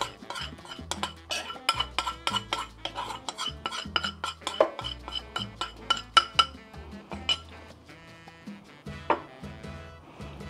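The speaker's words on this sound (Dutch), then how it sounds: "En ook dit blijf je roeren." A spoon works steadily through thickening Surinamese lapis batter in a metal pot, giving repeated scraping knocks and bright clinks in an uneven rhythm, close and clear, with no talk.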